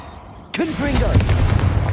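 A Confringo blasting spell goes off in the wizarding game Hogwarts Legacy, a sudden sharp burst followed by crackling, sizzling blast noise and rumble that fills the rest of the moment, loud and close.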